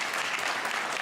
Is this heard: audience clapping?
yes